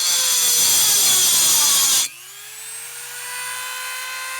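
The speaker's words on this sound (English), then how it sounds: "I'm going to take my Dremel and I'm going to notch this out so it slips down over that wire" Dremel rotary tool notching a wooden deck railing for cable railing, a loud high whine while cutting that stops abruptly midway, then the motor winds down and coasts quietly alone.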